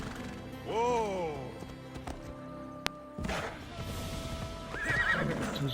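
A horse in the Assassin's Creed Odyssey video game gives a loud rising whinny, then clip-clop hooves and movement thuds follow, with a second whinny near the end, set against a steady game ambience.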